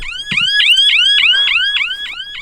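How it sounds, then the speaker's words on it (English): A 12-volt alarm fitted to a dinghy, triggered remotely through a Siren Marine unit, wails loudly and continuously in rapid repeating upward-sweeping whoops, close to the microphone with no talk over it. "that's the 12 volt alarm hooked up to an output on the Siren Marine unit"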